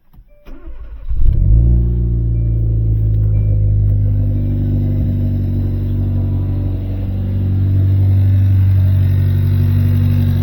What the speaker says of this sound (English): Right now the engine's sounding good.